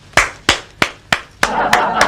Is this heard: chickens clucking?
no